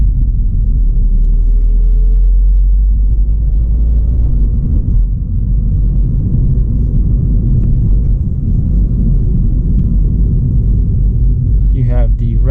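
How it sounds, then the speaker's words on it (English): A 2019 MINI Cooper engine revs hard in sport mode during a night drive, giving a steady, loud low rumble that fills the cabin throughout, with a brief rising whine near the end. "also sound is pretty nice in the sport mode."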